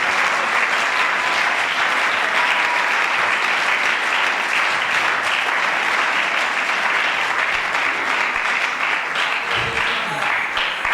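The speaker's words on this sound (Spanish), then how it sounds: "Aplauda la gloria de Dios." A church congregation claps together in sustained, dense applause that fills the room evenly for the whole stretch, with a few voices faintly mixed in.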